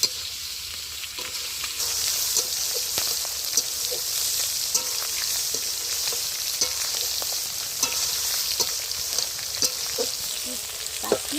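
Taro and taro greens sizzle steadily in a pan over a village cooking fire in the Sundarbans, with frequent sharp clicks and scrapes of stirring scattered through a continuous, fairly loud frying hiss; no one speaks.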